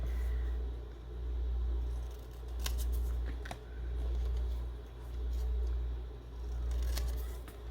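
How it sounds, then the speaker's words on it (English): Scissors cut through sticker sheets in slow, rhythmic snips close to the listener, repeating about every second and a half over a low background rumble. "so it's not hard to cut them apart."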